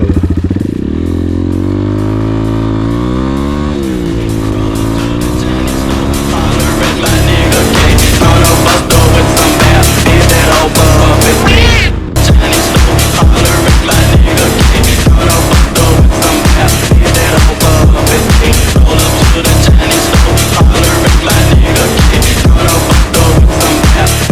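A motorcycle with a straight-through exhaust and resonator makes a 0–100 acceleration run: loud, raw engine roar that climbs in pitch, then a rapid staccato pulsing as it pulls hard through the gears, close and continuous.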